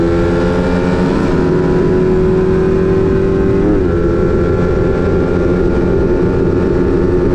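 Suzuki Raider F5 motorcycle engines, one fitted with a 68mm bore, roar loudly and steadily while racing, a continuous dense drone with a brief pitch shift midway.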